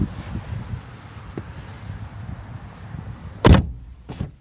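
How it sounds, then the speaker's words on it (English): A 2018 Lexus RC 300 F Sport's frameless window motors back up as the door shuts, a sharp door thud followed by a brief second burst over low background rumble. "It rolled back up."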